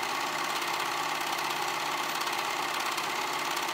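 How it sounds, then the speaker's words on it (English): A serger overlocks the two raw edges of a sweater's cowl neckline, giving a steady, continuous mechanical whir with a fast stitching rhythm, close and even throughout, with no talking. "now I'm gonna go ahead and serge those two raw edges, making sure that my fabric is all in there"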